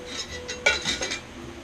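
Light metallic clinks and rattles of camping cutlery and a small cooking pot being handled, a sharp clatter midway, close and moderately loud with no talking.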